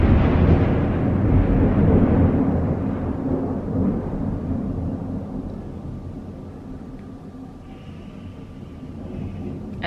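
A loud, deep thunder rumble rolls in over Brussels, starting strong and slowly fading across several seconds into a low distant grumble.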